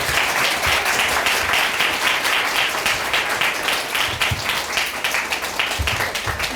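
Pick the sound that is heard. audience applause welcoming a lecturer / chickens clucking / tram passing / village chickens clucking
audience applause welcoming a lecturer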